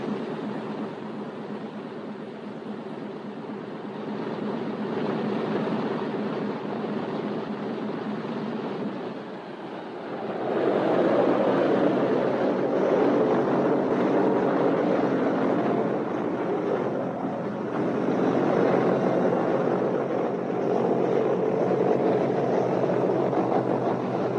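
Engines of a B-17 bomber in a 1943 pilot training film run up to about 1,000 rpm before shutdown. A broad, steady roar holds throughout, then swells louder midway, with no voices over it.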